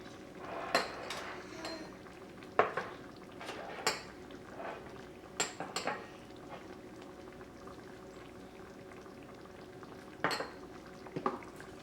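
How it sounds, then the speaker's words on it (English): Dishes and cutlery clatter in scattered bursts while lemon garlic butter shrimp is plated, sharp clinks and scrapes over a steady simmering hiss, with no talk. "I'm going to plate it up so you can see what it looks like"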